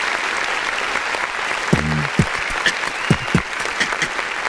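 Audience applause closes a late-night live music review stream, a steady wash of clapping throughout with a few louder nearby claps and a brief voice near the middle.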